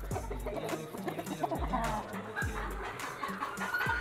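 A Sweater gamefowl rooster clucks in short repeated bursts at close range, with other birds and low murmuring voices in the background.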